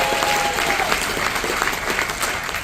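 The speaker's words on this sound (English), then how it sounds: "Siobhan, round of applause for Siobhan please." Audience at a show aboard the P&O Aurora cruise ship gives a sustained round of applause, a dense, even wash of clapping that fills the room at steady loudness throughout.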